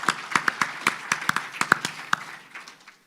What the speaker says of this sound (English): Can you give the department a round of applause?